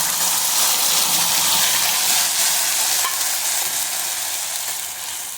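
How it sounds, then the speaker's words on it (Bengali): A paste of onion, garlic, ginger and green chili sizzles steadily in a hot pan, a loud continuous frying hiss that fades slightly toward the end, with no talking. "পেঁয়াজ, রসুন, আদা, কাঁচা লঙ্কার পেস্টটি দিয়ে দিচ্ছি"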